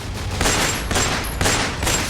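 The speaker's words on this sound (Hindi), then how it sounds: "गोलियों की तड़तड़ाहट से ये पूरा इलाका गूंज उठता है" Three masked attackers fire several rounds at a showroom gate, producing four loud, sharp blasts about half a second apart that ring out and echo, with no voices over them.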